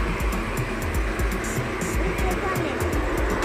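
A steady, loud roar of airliner engines at close range at Sultan Hasanuddin Airport, Makassar, with a broad rushing noise and faint rhythmic ticking underneath.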